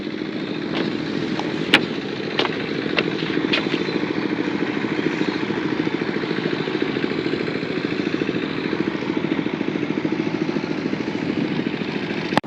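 A small motor boat's engine chugs steadily on a river, a loud, close, rapid pulsing drone that runs unbroken, with a few sharp knocks scattered over it.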